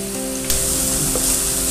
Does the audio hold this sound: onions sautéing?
yes